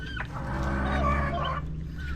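A native chicken clucks close by in a short run of throaty, wavering calls lasting about two seconds over a low steady background hum, with no talk.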